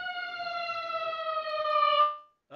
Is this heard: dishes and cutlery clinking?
no